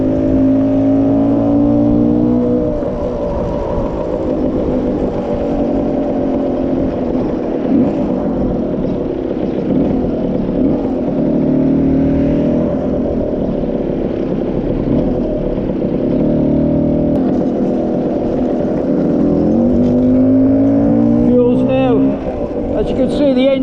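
A small two-stroke Lambretta scooter engine drones steadily under load riding uphill, its pitch holding fairly even, then climbing as the revs rise near the end.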